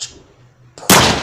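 Gunshot sound effect: a sharp, loud burst that erupts near the end after a short faint lead-in, sounding close with a broad noisy blast. No voices are heard.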